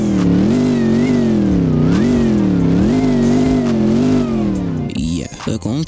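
Supercharged Hemi V8 car engine revving loudly, its steady throaty tone repeatedly swelling and falling in pitch, then breaking into choppier, uneven bursts near the end.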